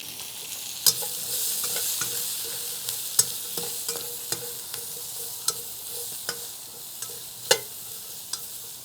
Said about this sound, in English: We'll go ahead, put over our mixed veggies. We've got onions and peppers,